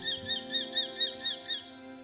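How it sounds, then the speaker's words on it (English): Birds call in a misty Bhutanese forest, a regular series of about seven short, clear, whistled notes evenly spaced over a sustained low drone, with no talk. "Birds calling from directions the mist makes impossible to locate."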